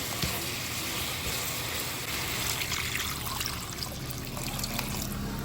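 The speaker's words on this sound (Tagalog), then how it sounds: "Kailangan na nito ng tubig. Tubigan na natin." Water pours in a steady splashing stream into a cooking pot with chicken for several seconds, close by, with no talking over it.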